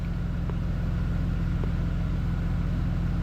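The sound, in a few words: Mercedes C230 W203 1.8 car running in drive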